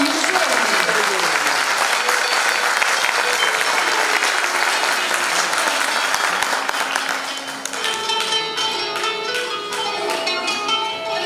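A Turkish classical music concert audience applauds a singer loudly, with dense sustained clapping that thins toward the end as instruments and faint voices come in.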